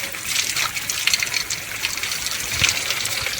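A rain-fed mountain waterfall stream in Himachal rushes and splashes nearby, a steady close gushing flow with small trickling bursts.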